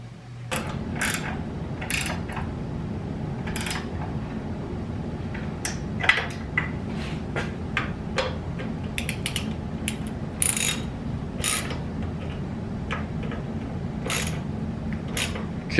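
A ratchet wrench clicks in quick bursts while tightening bolts on a DirtRacks front crash bar being fitted to a Yamaha Tenere 700, with metallic ticks and pauses over a low background hum.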